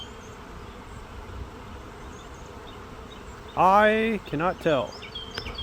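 Honey bees buzz around a swarm being collected with a brood frame from about 30 feet up, a steady hum running throughout while a voice speaks over it near the end.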